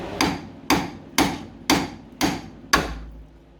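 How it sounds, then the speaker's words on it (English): Six evenly spaced sharp hammer blows ring against a C3 Corvette steering knuckle to pop the ball joint loose, metallic and close, each strike decaying quickly before the next. "There is a really convenient flat spot on both sides, up and down, to hit the steering knuckle"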